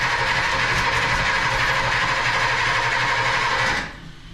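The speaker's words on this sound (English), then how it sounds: "Sounds like a GM starter." Starter motor cranking a 1959 Imperial Crown's 413 V8, a steady, loud, fast-chattering whir that runs continuously for several seconds, then cuts off abruptly near the end, leaving a quieter background.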